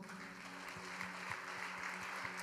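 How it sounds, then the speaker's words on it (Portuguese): A church congregation claps continuously, a dense patter of many hands heard from a distance, fairly quiet and steady throughout. "E a igreja aplauda ao Senhor."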